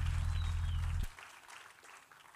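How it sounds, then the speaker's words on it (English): A church audience applauds for Azaf with loud, dense clapping that cuts off suddenly after about a second. Faint room noise follows. "Please give a hand clap to Azaf."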